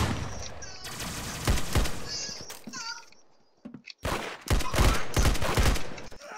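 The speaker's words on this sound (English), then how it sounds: "That's some beautiful shooting right there." Gunfire in the Roblox game Arsenal comes in rapid, loud bursts of shots separated by short pauses and a brief near-silence, with excited voices calling out over the shooting.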